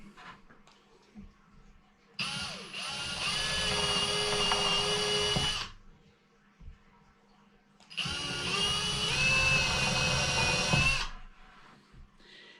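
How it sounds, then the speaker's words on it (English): Two long bursts of a power drill boring holes into a pine slab, each lasting about three seconds with a steady high whine, separated by a short pause. "the reason I'm drilling these holes out is with the size of the legs"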